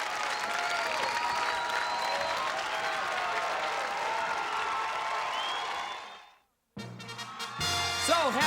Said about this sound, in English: Ladies and gentlemen, how about a round of applause for 2 great contenders?